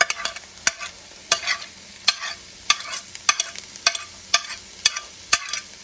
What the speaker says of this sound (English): Then you want to slowly stir them.